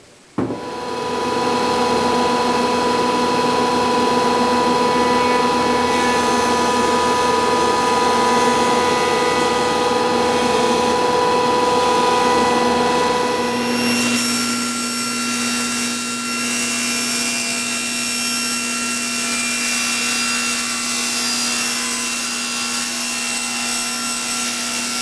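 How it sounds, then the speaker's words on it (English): A table saw rips a package of wood veneer slices with one jointed edge, giving a loud, steady whine that runs unbroken for about fourteen seconds and then drops to a lower, freewheeling hum as the blade spins on after the cut. "I'll take the package with one jointed edge and run that through the table saw to get the total width that I need"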